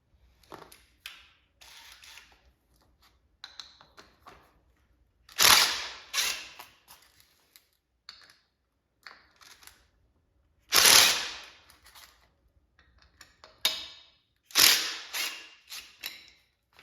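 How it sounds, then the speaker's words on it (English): A T40 driver loosens the friction disc bolts on a snowblower, a sparse series of sharp metallic ratcheting clicks and bursts separated by quiet pauses, close and fairly faint. "I'm going to use a T40 to remove these 3 bolts"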